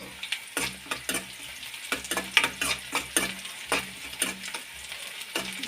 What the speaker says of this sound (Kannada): ನಾನು ಕೈ ಆಡಿಸಿ ಫ್ರೈ ಮಾಡ್ಕೊತಾ ಇದ್ದೀನಿ ನಾನಿವಾಗೆ ಕರಿಬೇವು ಸೊಪ್ಪು ಹಾಕತ್ತೀನಿ